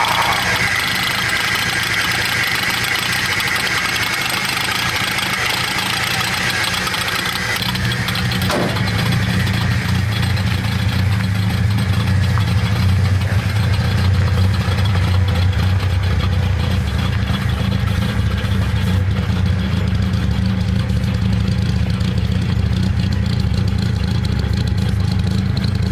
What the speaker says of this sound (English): Alright, now that the car is running, Mark's going to take us for a little spin